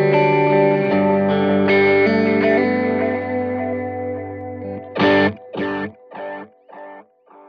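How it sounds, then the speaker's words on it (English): Electric guitar through a Line 6 Helix dotted eighth delay with long feedback: sustained chords fade, then a few plucked notes repeat in rhythmic, decaying echoes, heard alone. "The next delay in this patch is a dotted eighth delay,"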